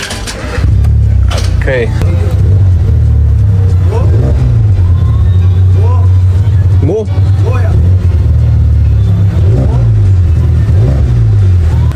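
A lowered VW Citi Golf idles and creeps in reverse, its steady low engine drone running throughout, with brief rises in revs while people talk over it nearby.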